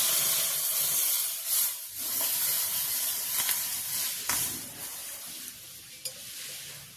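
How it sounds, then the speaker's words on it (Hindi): A litre of milk goes into a hot pan for carrot halwa, giving a continuous sizzling hiss with bursts of spray and stirring scrapes, close and moderately loud, fading slightly toward the end. "अब हमें दूध डालना है। 1 लीटर दूध लिया है हमने।"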